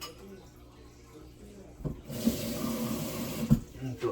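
Water poured over frying food while cooking outdoors with herbs and spices, a splashing, sizzling wash that starts about halfway through and carries on loudly to the end, with brief voices underneath.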